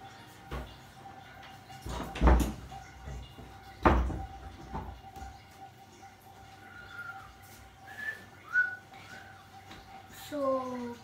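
A door is pulled shut indoors, with two sharp knocks or thuds close together early on, then quiet room sound and a person talking.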